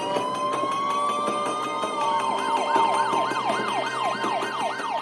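Ambulance and police car sirens blare from nearby, a long steady wail that shifts into a rapid rising-and-falling yelp, with other sirens layered under it.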